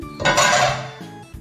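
A small steel spoon clinks against a kitchen vessel while Eno salt is added to millet uttapam batter, giving a burst of bright metallic rattling and scraping, close and fairly loud, that tapers off after about a second.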